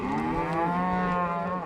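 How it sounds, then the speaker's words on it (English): On a ranch cattle drive in cold, wet weather, a cow lets out one long, low, loud moo close by, with no voices. "This is not a make-believe cattle drive."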